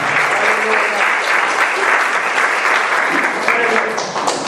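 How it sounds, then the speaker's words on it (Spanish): A church congregation applauding during a Sunday morning service, a loud dense wall of clapping from many people that holds steady throughout and eases slightly near the end. "Vamos a dar un aplauso al Señor esta mañana"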